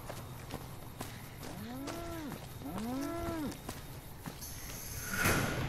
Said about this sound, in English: is that a cow trying to kill me?